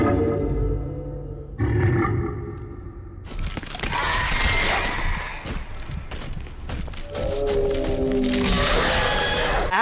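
Roars of the Divider monster from the video game Dead Space, a harsh layered growl building into a loud, sustained, gritty roar with cracking textures, heard alone without talk.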